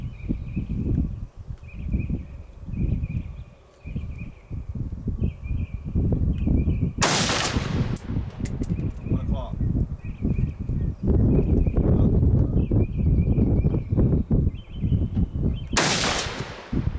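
A SIG 556 rifle fires at a target at an outdoor range, with two loud, sharp shots spaced several seconds apart over continuous wind and background noise.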